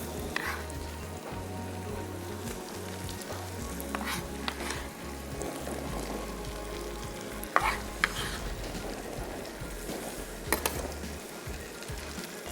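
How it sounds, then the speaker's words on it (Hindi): Tomatoes frying in a pan for makhni bhindi, a constant close sizzle broken by stirring scrapes and a few louder pops, with no one speaking. "अभी आपने इसको 1 से 2 मिनट तक करना है फ्राई, ताकि टमाटर जो थोड़े नरम हो जाए"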